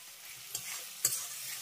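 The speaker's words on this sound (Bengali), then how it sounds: "চিনিটাও মশলার সঙ্গে ভালো করে মিশিয়ে দিয়েছি।" Sugar is stirred into spice paste frying in a pan, a faint sizzle under two soft spoon scrapes against the pan, quiet and close.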